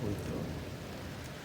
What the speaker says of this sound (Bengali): বৃষ্টি হইতেছে, ঠান্ডা বাইরে গেছে